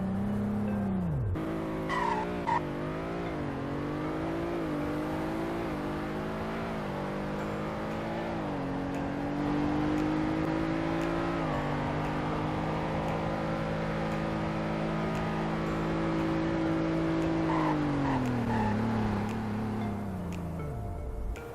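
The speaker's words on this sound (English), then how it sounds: "Here is a 0 to 100 in braking test." A car in the Roblox Greenville video game, with a rev limiter near 5,000, accelerates hard from a standstill to 100. The engine climbs loudly through several gear shifts, holds a high drone, then drops away under hard braking.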